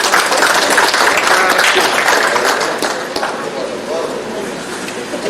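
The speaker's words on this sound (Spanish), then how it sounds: "un aplauso para" Audience applause during a criminal law lecture session, a dense burst of clapping that stays loud and then thins slightly toward the end, with voices mixed in.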